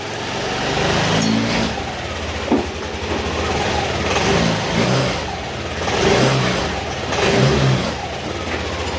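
A car engine with a fresh engine refresh and a ticking fault revs up and down several times, a steady mid-pitched roar swelling in waves, close and fairly loud, with no talking.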